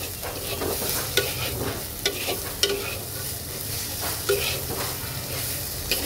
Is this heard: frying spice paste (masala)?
yes